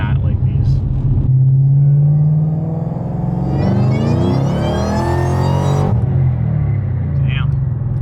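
A roadster accelerates hard, its engine rising in a loud climbing howl with a gnarly high whine layered over the low rumble, then easing off, while occupants talk inside the car.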